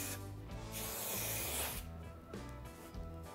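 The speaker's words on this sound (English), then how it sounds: "and then the other two sides get sprayed" A short, close burst of aerosol glue hisses onto a pool table rail, a steady spray lasting about a second amid quieter rubbing and handling noises.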